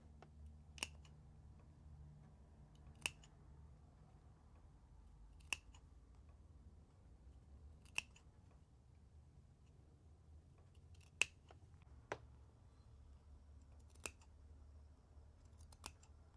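Sharp scissor snips cutting into the fabric seams of a scrappy rag quilt Christmas stocking, about eight crisp, isolated cuts spaced every couple of seconds over a low steady background hum.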